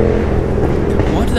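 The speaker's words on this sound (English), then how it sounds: "Oh, loud motorcycle again." A loud motorcycle roars continuously close by on a road near Mickleham in the Surrey Hills, with a voice talking over it.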